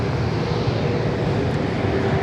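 Qantas Airbus A330 bound for Hong Kong taking off at Sydney Airport, a steady broad engine roar heard from a distance that holds level throughout without fading.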